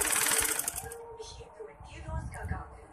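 A sewing machine stitching piping onto a frock top, a fast steady mechanical whir near and loud for about a second before stopping, then quieter handling and a voice speaking.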